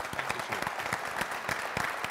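A conference audience gives sustained applause at the end of a keynote at a corporate startup awards event, a steady wash of many hands clapping with a few sharper individual claps standing out.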